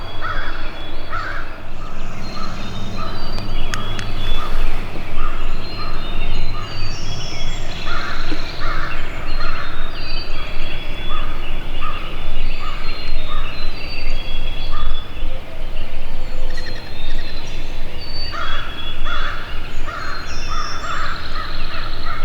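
Wild turkeys gobble from a hillside at sunrise, their calls rising repeatedly through a dense, steady wash of dawn birdsong and outdoor background noise, with no one talking.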